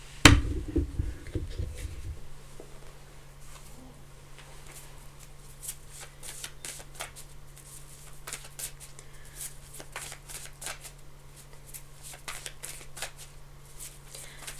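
A deck of tarot cards is riffled and shuffled in a quick burst at the start, then the cards keep rustling and snapping softly in repeated flicks over a low steady hum, with no voice.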